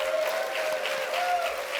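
An audience at a community radio awards ceremony claps and cheers in a brief, soft burst of applause that holds steady from start to finish.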